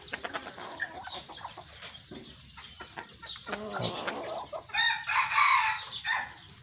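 A young gamecock, seven to eight months old, crows loudly nearby, a drawn-out call rising near the end after scattered clucks and rustling.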